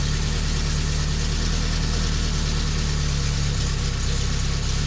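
A 1972 Fiat 850 engine idles near 1,000 RPM with its timing being adjusted, a steady close-up mechanical drone with a low rhythmic throb holding even throughout, no voices.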